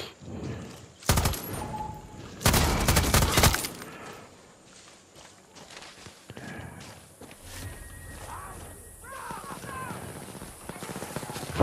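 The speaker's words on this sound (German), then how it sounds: "Was schießt denn der?" Bursts of automatic gunfire in the video game Far Cry 6, two loud dense volleys early on, then quieter footsteps and scattered game sounds; a voice speaks briefly.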